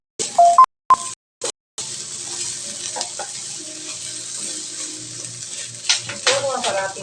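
Food fries in a pan with a steady sizzle after a few short beeps and clicks at the start, then louder scraping and clinks as it is stirred near the end.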